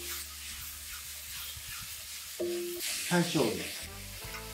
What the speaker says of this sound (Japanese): 玉ねぎと絡めながら炒める。